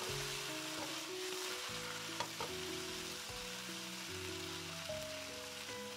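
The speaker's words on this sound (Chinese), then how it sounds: "开大火，快速的翻炒。" Napa cabbage stems are stir-fried fast over high heat, a soft steady sizzle with faint spatula scrapes and taps, fairly quiet and with no talk.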